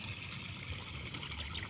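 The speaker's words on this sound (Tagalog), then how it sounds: "Nagbabawas sila ng tubig sa palay." Water draining out of a flooded rice paddy in an irrigated farm field, a steady close trickle and gurgle that carries on without a break.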